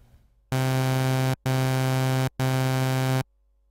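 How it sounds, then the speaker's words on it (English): A Sylenth1 synthesizer sawtooth wave oscillator plays three loud, buzzy sustained notes of equal length, each about a second long with short gaps, bright and harmonically rich, with no talk. "The next waveform is the sawtooth,"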